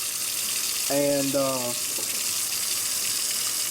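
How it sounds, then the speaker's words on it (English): Hot water tap running steadily over a can of spray paint, a constant close hiss of flowing water, with a brief tonal squeal partway through and a short spoken word. "I have this can here running under hot water"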